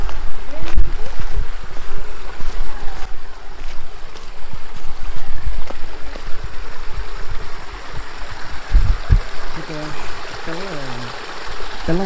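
Water pours continuously at Penchalakona waterfall, a loud close rushing hiss with scattered knocks and bumps and brief faint voices.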